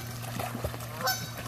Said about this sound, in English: And geese, there's ducks over there.